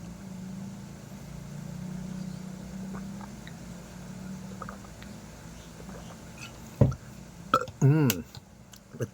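After a drink of water, a short, loud burp breaks out over quiet background noise, followed by a few brief throaty sounds close to the microphone.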